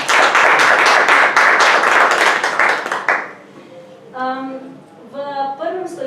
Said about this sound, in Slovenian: Jaz mislim, da si za uvod naši sogovorniki zaslužijo en toliko pozdravljen aplavz.